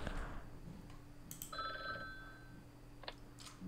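A telephone in the Talking Ben game rings with a bright, tonal electronic trill that lasts about a second over a steady hum in the background, quiet and somewhat distant, with brief clicks around it.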